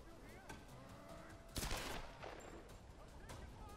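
Gunfire in the 2013 Tomb Raider game, faint rattling shots under a voice with one louder burst midway, amid busy background game sound.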